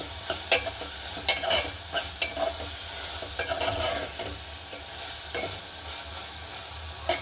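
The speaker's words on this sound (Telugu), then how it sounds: "వేసి ఒకసారి ఇట్లా మిక్సర్ చేసేస్తాం" Tomatoes and onions being stirred in a frying pan, with a steady sizzle and repeated sharp scraping strokes of the spoon, close and alone with no talk.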